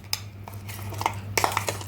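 Ground masoor dal paste is moved into a cooking vessel. A metal spoon scrapes and clinks against the pot in a few light, close knocks over a low background hum.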